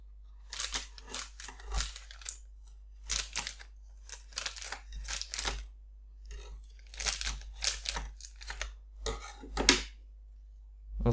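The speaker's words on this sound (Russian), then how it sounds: "Распаковали ножницами." Scissors cut open the parcel packaging around a PCI-Express riser card, making close, crunchy snips in short irregular bursts separated by brief pauses, with no talking.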